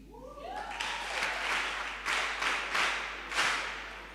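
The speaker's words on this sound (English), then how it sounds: "Can we give a special round of applause to the new team?" A round of applause for a new school debate team at a live schools debate, with broad clapping from the audience that swells in waves over a few seconds.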